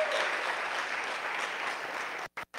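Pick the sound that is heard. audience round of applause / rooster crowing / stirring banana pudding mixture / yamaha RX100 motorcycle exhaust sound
audience round of applause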